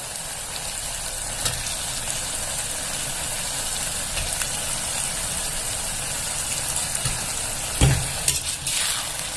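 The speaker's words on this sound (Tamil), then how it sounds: "இப்போ தக்காளி போட்டுடலாம்" Tomatoes cooking with ginger garlic paste in a pan for tomato rice, giving a steady close sizzle and frying hiss with occasional scrapes and stirring clatter, no talking.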